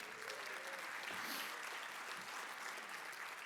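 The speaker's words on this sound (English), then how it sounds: "Give yourselves a round of applause for making it." Steady audience applause fills a banquet hall at an annual chamber of commerce awards celebration, a dense, even wash of clapping from a large crowd that holds at the same level throughout.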